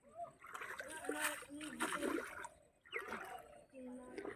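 Water splashes and sloshes as a fishing net full of small fish is hauled up from a pond, with choppy bursts of splashing close by and voices talking over it.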